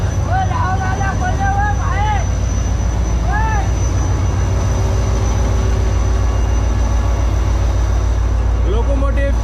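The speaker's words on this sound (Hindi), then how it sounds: "Locomotive 8206 GMU 30R 8206।" Steady low diesel rumble of a GMU 30R locomotive, number 8206, idling at Hyderabad railway station, loud and constant under a busy platform where voices and brief tonal calls sound over the engine.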